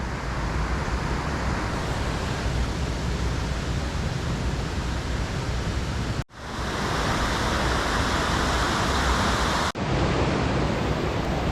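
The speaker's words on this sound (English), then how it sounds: "This is where we camped, at this waterfall here." Waterfall beside a campsite in Snowdonia National Park gives a constant loud, full-bodied rush, broken by two brief dips where the sound cuts out momentarily before the roar resumes.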